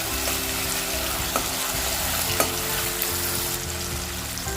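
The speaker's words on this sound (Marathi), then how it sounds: "थोडंसं टोमॅटोवर मीठ घालते म्हणजे लवकर शिजेल चांगला असं नरम करून घ्यायचा टोमॅटो" Tomatoes with salt cooking in a pan for a Malvani sprouted green moong curry, a continuous close sizzle with a few soft stirring taps, steady and without any talk.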